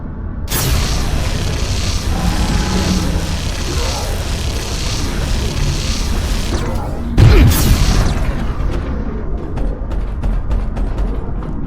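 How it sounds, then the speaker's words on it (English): Jotun enemy firing repeatedly at the player in Abiotic Factor, a steady dense mechanical blast across the clip with one louder booming burst about two-thirds through. "All he can do is fire at me and stand there and keep firing"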